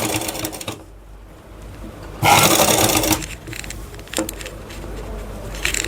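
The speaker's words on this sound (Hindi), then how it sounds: "इसको भी गले के साथ से सटाते हुए बिना गैप के सिलाई लगाएंगे।" A sewing machine stitches a second line along a garment neckline, sewing close to the neck edge with no gap. A low mechanical hum runs throughout, with a louder, denser burst of stitching in the middle and softer running before and after.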